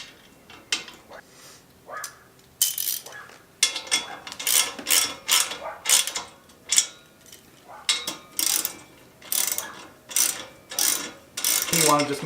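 A ratchet with a 9/16 socket snugs exhaust bolts on a 2018 Harley-Davidson Road Glide during a Cobra Neighbor Haters exhaust install, giving bursts of rapid metallic clicking in repeated strokes, close and crisp.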